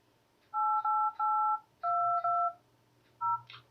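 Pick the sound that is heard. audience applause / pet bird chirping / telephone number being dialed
telephone number being dialed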